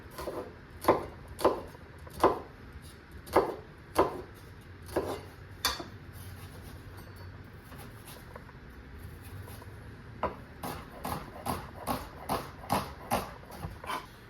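A knife chops onions into small cubes on a board, giving crisp, sharp knocks in uneven bursts, with a short pause in the middle before a quicker run of cuts. The chopping is close and distinct, and no one speaks.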